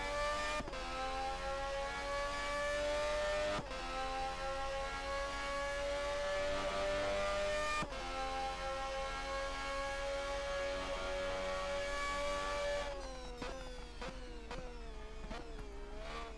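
A race car engine revs loud and close throughout in the racing game Race 07, a steady high whine that drops sharply at gear shifts around every four seconds, then wavers and sags near the end as the car brakes and turns.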